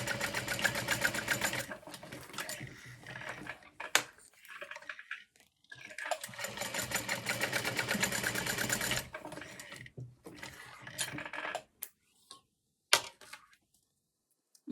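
Sewing machine stitching through the center of a bowler bag and back down, running in long steady bursts with short pauses and a few sharp clicks between runs, close and fairly loud with no talking.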